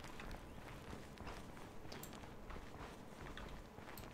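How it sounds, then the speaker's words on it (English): A player character's loud, rapid footsteps in a ranked duel of the game SMITE, steady running thuds close up under a dense game soundscape. "You got some very loud footsteps"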